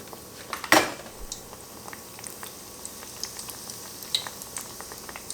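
Beignets fry in hot oil in a pot, a few at a time, giving a soft steady sizzle with scattered crackles and sharp pops, plus an occasional faint clink.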